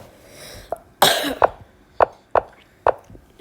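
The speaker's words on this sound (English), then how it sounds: "Sorry if I'm coughing" A sick person coughs several times: one harsh, breathy cough followed by four short, sharp coughs at roughly even intervals, close and fairly loud.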